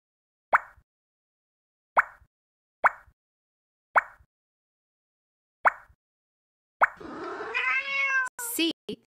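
Meow from a cartoon cat in a preschool shape-building puzzle game on iPhone, one clear drawn-out cry with a rising then falling pitch, coming after a row of five short soft plops, with a brief sharp blip at the end.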